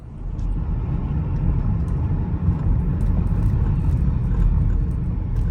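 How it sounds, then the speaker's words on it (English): A 2017 Toyota Corolla's engine and road noise rumble steadily from inside the car on a test drive after a wheel bearing replacement, a continuous low drone with faint rattles and no talking. "let's go ahead and test drive this car"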